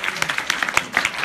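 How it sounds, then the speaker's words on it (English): A short burst of audience applause for directors on a panel at a judges and directors forum, with quick, dense clapping and voices mixed in. "can we please have big round of applause for our directors up here"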